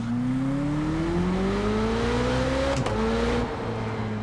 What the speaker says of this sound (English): It's my favorite Lamborghini to drive right now.